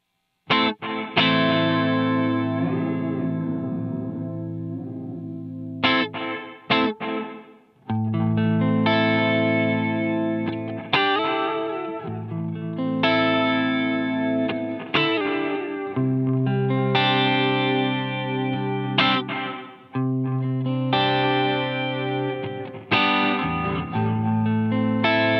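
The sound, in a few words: reverb effect with pre-delay on notes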